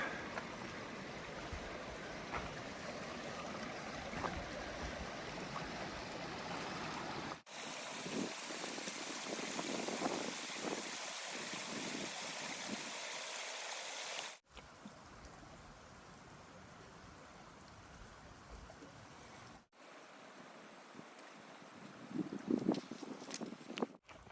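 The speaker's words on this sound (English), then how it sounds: "here's a nice little water crossing about a mile up from Horseshoe Meadows" A small stream at a trail water crossing about a mile above Horseshoe Meadows rushes in a continuous wash, broken into separate segments with shifting levels, with some wind buffeting and no voices.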